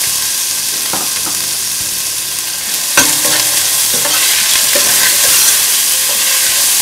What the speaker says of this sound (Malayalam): നമ്മൾ എടുത്തു വെച്ചിരിക്കുന്ന കറിവേപ്പിലയും പച്ചമുളകും കൂടെ ഇട്ട് വഴറ്റാം.